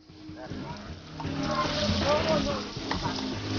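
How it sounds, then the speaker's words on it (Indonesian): Clam meat stir-fried in a wok with ground spice paste gives a steady, close sizzle that swells and stays loud, with a voice talking faintly underneath. "Kemudian bumbu yang tadi sudah diulek dicampur ke dalam wajan berisi daging kerang."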